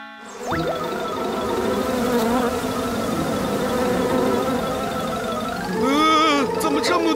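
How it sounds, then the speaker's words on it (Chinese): A swarm of bees buzzes in a cartoon, a dense, continuous drone that stays loud throughout and rises into wobbling, warbling tones near the end. "怎么这么多蜜蜂啊？"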